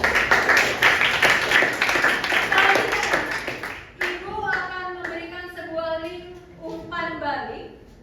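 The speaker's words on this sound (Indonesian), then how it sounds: "boleh tepuk tangan" Students in a chemistry class clap their hands together, a dense burst of applause for about four seconds that then fades as talking takes over.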